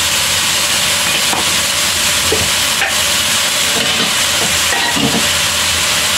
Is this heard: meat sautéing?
yes